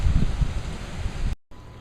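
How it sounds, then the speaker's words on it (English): Steady wind blowing across the microphone with rustling buffeting, cutting out briefly near the end before resuming more faintly. "You can see it's a really windy day today."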